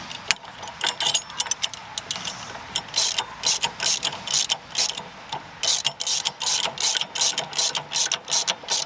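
Ratchet socket wrench turning a 17mm nyloc nut on a caravan stone stomper, quick bursts of rapid clicking in uneven runs with short pauses, close and crisp.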